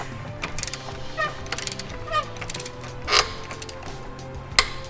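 A hand ratchet clicks in short bursts while tightening oil pan bolts on a 2010 Pontiac G6 with a 3.5L engine, the fast pawl clicks close and fairly quiet, separated by pauses and a few clanks.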